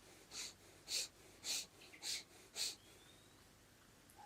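Quick nasal breathing exercise: five sharp, evenly spaced exhalations through the nose, fairly close and soft, followed by quiet.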